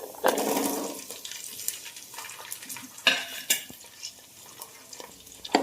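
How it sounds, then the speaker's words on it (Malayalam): Small onions fry in a pan while a spoon stirs them, with scraping clinks of utensil against the pan and a soft sizzle underneath, in uneven bursts and no speech. "ചെറിയ ഉള്ളി നല്ല മൂത്ത് പരുവമാകുന്നത് വരെ ഇളക്കിക്കൊണ്ടിരിക്കുക"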